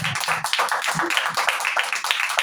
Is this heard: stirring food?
no